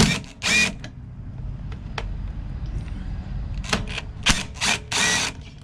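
Ratcheting wrench loosening 10mm screws on a Honda lawn mower gives short bursts of clicks in two groups, near and fairly loud, over a low hum.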